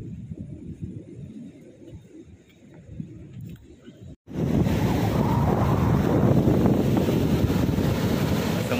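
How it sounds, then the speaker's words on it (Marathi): Rough sea surf at Munage beach on the Konkan coast: quieter wave wash at first, then after a brief break a loud, continuous roar of waves and wind buffeting close to the microphone. "समुद्र खवळलेलाच आहे."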